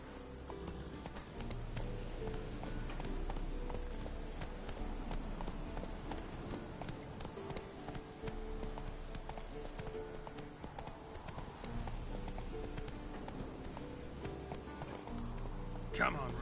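Hooves of Roach, the horse in The Witcher 3: Wild Hunt, galloping in a fast, steady clip-clop rhythm that continues throughout under game music and a voice urging the horse on.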